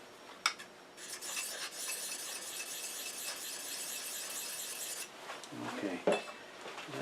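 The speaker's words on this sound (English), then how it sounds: "a diamond hone and just stroke it a little bit" A woodturning tool being stroked on a 600 grit diamond hone, a steady close rasping scrape with a metallic squeal running for several seconds, then a few brief clinks and rubbing sounds near the end.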